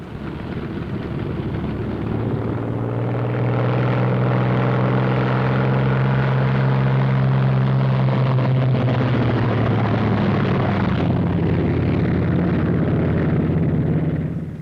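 Several WW2 P-47 Thunderbolt fighter planes taxi out, their big radial engines giving a loud, steady droning rumble that holds for the whole stretch, with a slight shift in pitch partway through and no talking.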